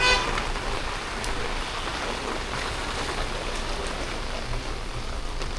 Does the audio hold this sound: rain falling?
yes